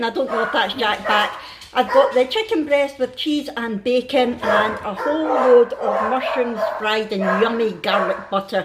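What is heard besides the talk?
dogs barking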